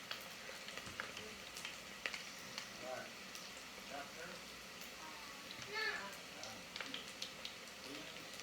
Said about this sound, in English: we're just going to fry it for about 2 to 3 minutes or until they're golden brown